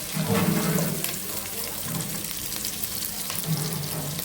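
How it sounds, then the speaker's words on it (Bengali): Chopped garlic, onion and green chili fry in a pan with a steady close sizzle and some stirring. A low hum from the stove or surroundings runs underneath. "রসুন কুচি দিয়ে দিচ্ছি পেঁয়াজ কাঁচামরিচ রসুন পেঁয়াজ ভাজা হচ্ছে"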